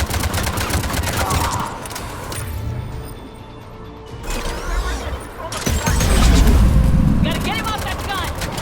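Mounted gun firing in Mass Effect Legendary Edition: rapid bursts of loud automatic fire that thin out briefly mid-way, then return heavier alongside clattering mechanical noise, with voices calling out over the shooting.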